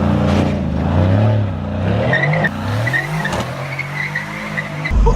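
A Formula 1 race car roars continuously with a loud, rising and falling engine note and high-pitched tire squeal as it corners hard, the sound heard up close and dense throughout.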